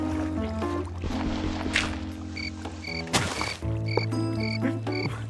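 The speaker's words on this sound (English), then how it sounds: "What is that frog doing?" A frog croaks repeatedly in a video game, rhythmic chirping croaks mixed with watery ambience and soft boat-like sloshing, steady and fairly close with no talk over it.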